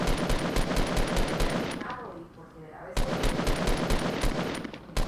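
Rapid automatic gunfire from the video game Fortnite rattles in loud repeated bursts, breaks briefly and then resumes.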